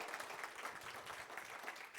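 A church congregation applauds together in a steady, dense burst of clapping that fills the room, close and sustained throughout.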